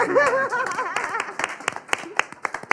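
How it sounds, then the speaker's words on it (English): Audience applause at a panel discussion on Octavia Butler, brief claps building after a spoken line, with scattered light laughter from the crowd. "a round of applause for you all for showing up"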